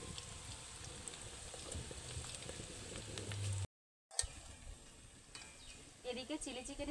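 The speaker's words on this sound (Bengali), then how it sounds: "এদিকে চিলি চিকেনটা ভাজা হতে থাক" Chilli chicken pieces fry in plenty of oil in a wok, giving a faint, continuous crackling sizzle that cuts out briefly midway and then resumes.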